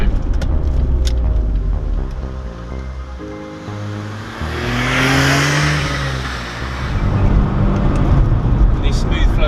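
A Smart Roadster turbo car accelerating on a winding road, engine tones rising in pitch through the gears with wind and road rush, heard from inside the cabin as someone talks over it.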